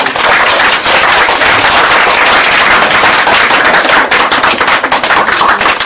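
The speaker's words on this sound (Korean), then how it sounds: "우리 힘찬 박수로 오늘 이 자리를 마무리 짓겠습니다" Loud, steady audience applause from a crowd closing a Korean book review event, a dense wash of clapping filling the whole stretch.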